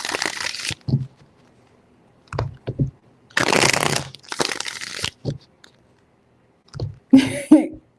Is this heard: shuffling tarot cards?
yes